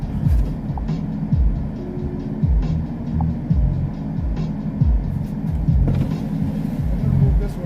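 A car being driven around a towing lot, its engine running steadily and close throughout with a low rumble and repeated rising surges as it shifts and moves.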